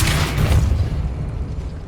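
A Depulso spell blast goes off in Hogwarts Legacy, a heavy booming burst with a strong low rumble right at the start that slowly fades out over about two seconds.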